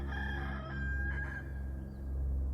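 Roosters crow outdoors, one long drawn-out cock-a-doodle-doo rising and falling with clucking farm fowl around it, fairly close and clear with no talk.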